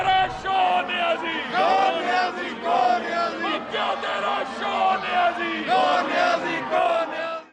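Opposition lawmakers crowd around the speaker's dais during a Punjab provincial budget session, chanting slogans in loud rhythmic bursts of many voices, with shouts rising and falling repeatedly and no pause.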